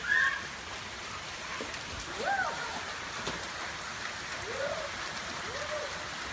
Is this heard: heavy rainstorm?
yes